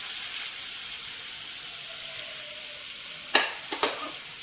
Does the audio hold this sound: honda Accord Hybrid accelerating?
no